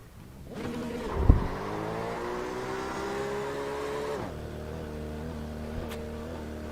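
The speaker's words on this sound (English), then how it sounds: "Burnouts." A car engine revs hard and holds a high, steady whine for several seconds before dropping back to idle, with a brief thump near the start, heard up close.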